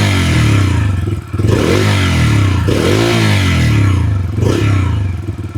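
A Bajaj Freedom 125 motorcycle running on CNG revs up in three or four surging swells, loud and close, with a rattly engine note between throttle blips.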